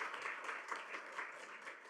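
Faint, steady applause from attendees at a school board meeting honoring families, a continuous patter of clapping with no talk over it.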